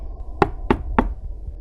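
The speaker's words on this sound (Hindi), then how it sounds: "उसके कमरे की जमीन से खटखट की आवाज आ रही थी" Three evenly spaced knocks sound from beneath a bedroom floor in a ghost story, crisp and moderately loud over a low, steady background hum.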